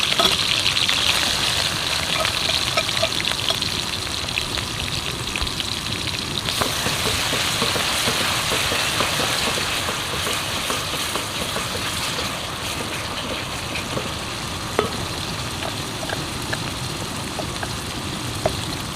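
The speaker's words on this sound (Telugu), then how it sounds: "దోస్తులు మన ఉల్లిగడ్డ అయితే ఫ్రై అవుతుంది." Crushed roasted onions frying in a hot pan of oil for a fish curry, a steady, dense sizzle with a rain-like hiss running unbroken throughout, fairly loud and close, with no talking.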